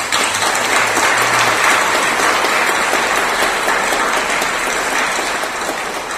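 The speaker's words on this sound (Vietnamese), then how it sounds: "Xin cho một tràng vỗ tay" A Vietnamese Catholic congregation in Melbourne, Australia applauds at a year-end thanksgiving Mass, a loud, steady wall of clapping from a large crowd lasting several seconds.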